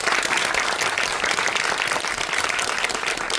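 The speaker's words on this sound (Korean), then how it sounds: "안소영 배우님께도 큰 박수 한번 부탁드립니다." Audience applause at a Netflix film screening talk for the series Aema, a dense, steady wash of many hands clapping together, loud and continuous throughout without a break.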